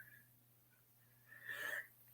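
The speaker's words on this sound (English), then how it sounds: "The apple cider made me sneeze." A single sneeze set off by drinking apple cider, a quick loud burst of breath with a sharp hiss, rising after a quiet lead-in and fading right away, with a steady low hum underneath.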